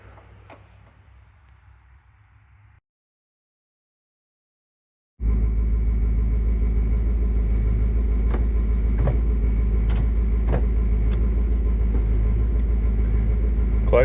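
A car idles with a newly installed transmission and fresh oil, first a faint low hum, then after a pause a loud, steady close engine drone with a smooth even rumble and a few light ticks.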